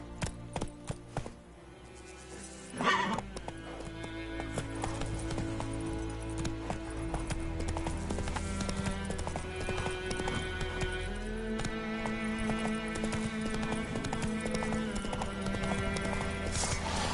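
Hooves clip-clop in a steady trotting rhythm as the horse Roach moves through The Witcher video game, with a brief whinny near the start and game music and ambience underneath.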